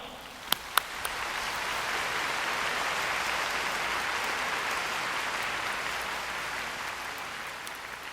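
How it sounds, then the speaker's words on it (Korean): Audience applause welcoming a guest at a second-anniversary Universal Seonghwa musical event in Washington DC, a dense, sustained wash of clapping from a large crowd, with a few sharp claps at the start. "부디 아낌없는 환영의 박수를 올려주시기 바랍니다."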